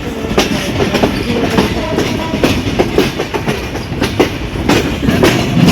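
Bonolota Express, a nonstop Dhaka-to-Rajshahi train, pulling onto platform seven of a station: a loud, steady rolling rumble with rhythmic clickety-clack of the wheels and faint squeals over the rail joints.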